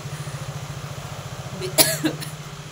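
One person coughs a few times in quick succession, a short, close burst over a steady low, pulsing engine-like hum that runs throughout.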